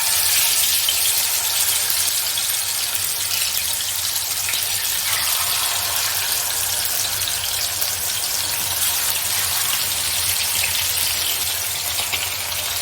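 Mackerel sizzles in hot oil with curry leaves, a loud, steady, hissing crackle of frying fish that holds evenly from start to finish with no voices.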